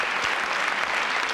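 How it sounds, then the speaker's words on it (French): A television studio audience applauds a guest named Patrice Carmouche with steady, full clapping that carries evenly throughout. "Applaudissements pour Patrice Carmouche qui a fait un bel effort"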